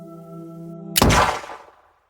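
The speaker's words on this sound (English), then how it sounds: "The gunshot was startlingly loud in the enclosed graveyard." Gunshot effect in an enclosed graveyard: a sudden loud crack bursts out of a low sustained hum and decays into a fading echo over about a second.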